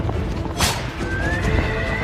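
Horses neigh and whinny while hooves clatter as the animals are set loose, the calls moderately loud over a busy background.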